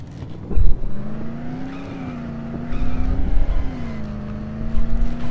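A car drives in the video game Dead Island, its engine droning steadily and loudly, rising and falling in pitch, with rough bursts of tire noise.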